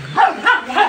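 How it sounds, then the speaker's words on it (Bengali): Dogs at a foreign-breed dog farm housing Lhasa, Pomeranian, Golden Retriever and German Shepherd breeds bark three times in a steady rhythm, fairly close and moderately loud. "লাসা পামারেনিয়ান গোল্ডেন রিট্রাইভার, জার্মান শেপার্ড, আরও বিভিন্ন জাতের কুকুরগুলো এখানে অবস্থান করছে"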